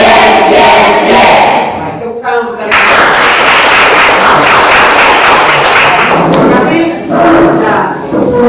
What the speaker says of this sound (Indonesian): Nah, tepuk tangan untuk kalian.